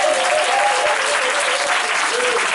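Church congregation breaking into loud, dense applause, a continuous wash of many hands clapping close and filling the room.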